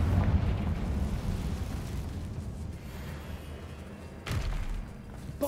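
Confringo and Bombarda spell blasts in the Hogwarts Legacy video game, deep rumbling booms with a lingering low roar, one heavy burst early and another sharp thud near the end, close and loud.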